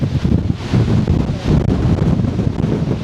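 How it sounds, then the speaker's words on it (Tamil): Strong wind buffets the microphone on a trip through Sri Lanka, a loud, continuous rumbling roar that rises and falls in gusts, with no voices. "இந்த பாருங்க காற்று எப்படி காற்றுன்ட்டு பாருங்க, தள்ளுது காற்று."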